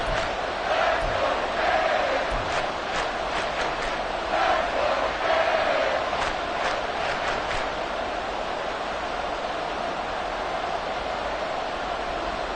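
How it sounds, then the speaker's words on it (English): A football stadium crowd between the Browns and Cardinals roars in a sustained wash of noise late in the fourth quarter ahead of a big third down, loud and continuous with swelling cheers and no clear talk. "the crowd getting into it as we come up on a big 3rd down"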